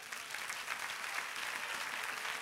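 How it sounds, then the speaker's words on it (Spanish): A church congregation applauds during a sermon, giving a dense, steady wash of clapping that holds at an even level. "Dale un aplauso al Señor."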